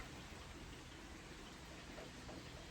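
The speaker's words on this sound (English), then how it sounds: "It's all rainy, gray." Steady, soft rain falling on a gray, warm day, an even hiss with no pauses and no voices.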